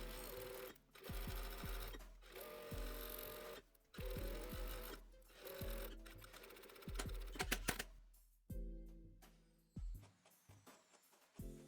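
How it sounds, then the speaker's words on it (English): A sewing machine stitches the inseam of a slim men's dress shirt at a 1/4 inch seam allowance, running in bursts of steady, rapid needle clatter with short pauses between runs, close and clear. "Pin the inseam and sew with a distance of a 1/4 inch or 6 mm."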